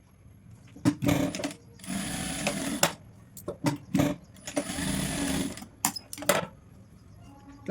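A sewing machine stitching a halter neck runs in short, close bursts, two longer whirring runs among quick clicks and taps of the machine being handled, and no talking.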